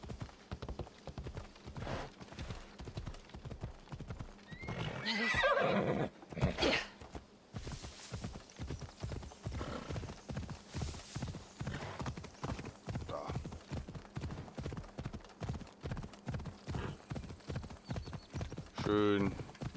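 A horse gallops through city streets in Assassin's Creed Odyssey, its hooves a fast, even clip-clop that runs the whole way through. A brief loud burst sounds in the middle, and someone talks now and then over the hoofbeats.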